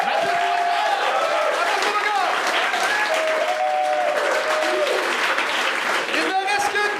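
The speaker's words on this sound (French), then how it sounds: "on peut l'applaudir tout le monde!" Audience at a comedy show breaking into loud, sustained applause, dense clapping with whoops and cheers from the crowd throughout.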